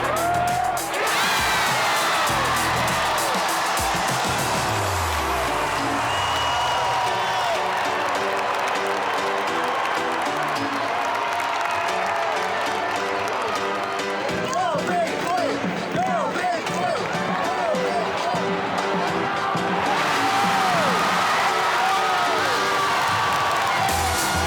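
A packed arena crowd cheers, whoops and applauds at a Kentucky basketball game as the home team rallies, loud and sustained, with ball bounces and squeaking sneakers audible underneath.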